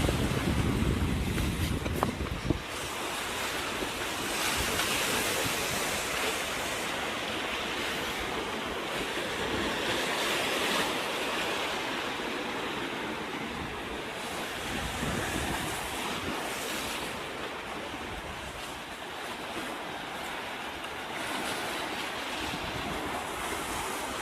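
Wind buffeting the microphone at the seaside, a steady loud roar with rushing waves and surf beneath it, continuing without a break.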